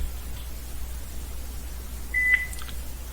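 An office desk phone running a Mitel Connect client gives a single short electronic beep, brief and clear over a quiet room hum, with no talking.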